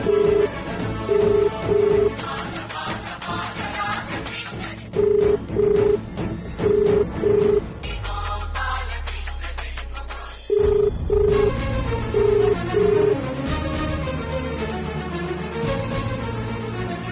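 A telephone rings unanswered, the short ring bursts repeating in regular pairs over dramatic background music, pausing midway and then returning.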